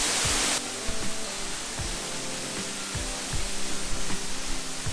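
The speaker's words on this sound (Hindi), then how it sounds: "और जो वाटर फ्लो है वाटरफॉल का, बहुत ही गजब है।" Panari waterfall in Sakti, Chhattisgarh, a steady, loud rush of falling water that fills the scene, with soft low thumps beneath it.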